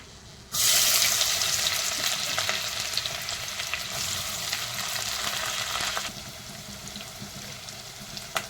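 Onions dropped into hot ghee with fennel, cinnamon and cardamom for a chicken curry, giving a sudden loud, steady sizzle up close that fades slightly after several seconds.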